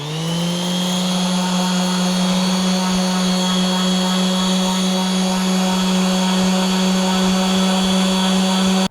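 A power tool works on a CB550 front brake caliper during fine sanding up to 1,000 grit: a loud, steady, whining motor drone that holds unbroken for about nine seconds before cutting off abruptly, with no talking.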